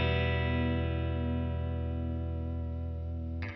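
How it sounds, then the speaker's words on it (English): A Walrus Audio Julia analog chorus/vibrato pedal set to full vibrato with a sine wave, giving a sustained, rich electric guitar chord with a gentle, gradual pitch wobble. It rings steadily and loud before stopping abruptly near the end, with no talking. "So now we're just getting the vibrato signal without the clean sound."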